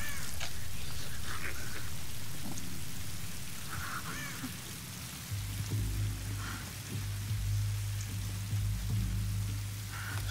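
Steady rain falls throughout in the video game Tomb Raider, with a low droning hum joining halfway and a few faint chirps in the background.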